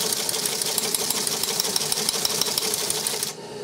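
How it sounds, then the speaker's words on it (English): A Teletype Model 28 KSR teleprinter's answer-back mechanism types automatically, a loud, fast, steady clatter of keystrikes for about three seconds that then abruptly stops, leaving a low mechanical hum. "when we press this, it's going to cause the teletype to do some automatic typing"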